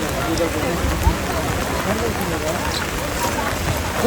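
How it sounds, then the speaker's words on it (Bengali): Steady rain pours down at an outdoor fishing competition in Kushtia, a dense, even hiss of drops close by with a faint thump partway through. "আসলে অতিরিক্ত বৃষ্টিপাত এবং খারাপ আবহাওয়ার কারণে মাছ ধরতে কিছুটা বিলম্ব হয়"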